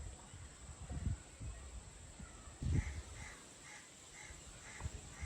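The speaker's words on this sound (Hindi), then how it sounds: "परिंदों की आवाज़ आ रही होती है इस टाइम पे" Crows cawing in a home garden, several short harsh calls repeating in a loose rhythm at a moderate distance, faint against a steady outdoor hum with no talk.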